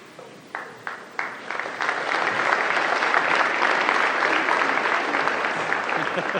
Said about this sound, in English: Really, you don't have to clap.